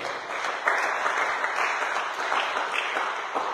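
A congregation at a church service applauds steadily throughout, a sustained patter of many hands heard at a moderate distance in the room.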